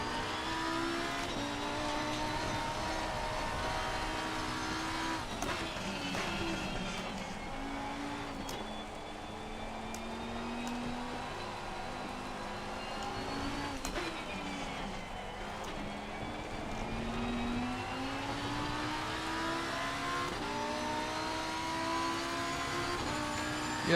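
A race car in Assetto Corsa Competizione drifts with engine revving up and down through gear changes and tyres squealing, a sustained, moderately loud whine over about twenty seconds without speech.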